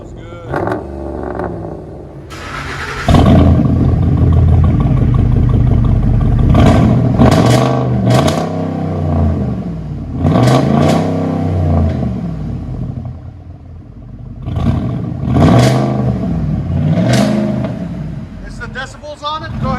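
Truck V8 engine, one of a Chevy/GMC 5.3L LS, RAM 5.7L HEMI or Ford 5.4L Triton, revving hard and loud up close in repeated swelling bursts, with voices talking over the roar.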